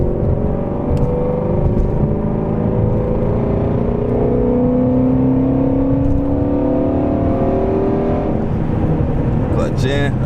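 A Mustang GT350 V8 climbs in pitch as it accelerates after a downshift in a manual-transmission car, a loud, continuous rising engine drone heard from inside, with a brief click near the end.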